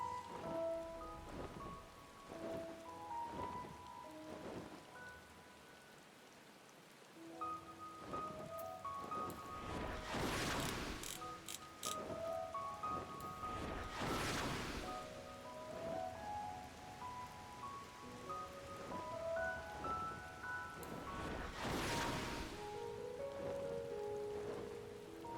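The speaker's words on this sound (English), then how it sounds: "Ah, yes, it's raining." Rain falls in Final Fantasy XIV as a constant hiss beneath drifting melodic game music, with a few louder noisy bursts that could be distant thunder rumbling through.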